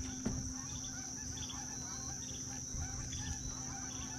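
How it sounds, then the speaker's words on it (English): A flock of geese honks faintly in the distance during a fishing outing, scattered calls over a steady outdoor hum with no talking. "That's a bunch of geese."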